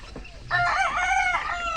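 A single rooster crows loudly and close by, a harmonic, wavering call lasting over a second.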